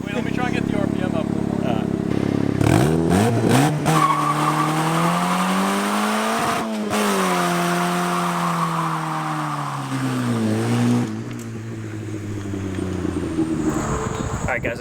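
A loud, obnoxious turbocharged Mazda Miata engine revs up and down while driving around town, its pitch rising and falling steadily through the whole stretch with a brief drop midway, close and dominant throughout.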